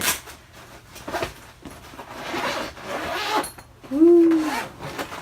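A small zipper being pulled open on a ring light carrying bag, a few short scratchy zipping strokes with handling rustle, followed by a brief squeaky sound.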